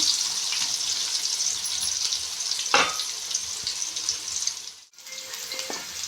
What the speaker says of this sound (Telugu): మళ్ళీ ఒకసారి ఇవన్నీ ఇలా కలుపుకోవాలి